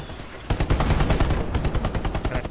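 Machine gun fire in the World War II shooter Hell Let Loose, battle at Foy: a sudden loud burst of rapid, evenly spaced shots continuing for about two seconds after a brief quiet start.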